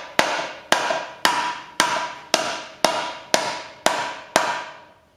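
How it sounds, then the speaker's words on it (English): A hammer strikes a metal drift to knock out a vehicle's universal joint, nine sharp, ringing metallic blows at an even rhythm, each decaying quickly, close and loud. "hit it with the hammer"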